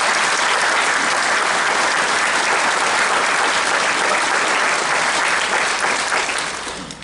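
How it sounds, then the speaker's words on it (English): Village association annual meeting audience applauding, a dense, loud, steady wash of clapping that holds for several seconds before tapering off at the end. "Can we give them a great round of applause?"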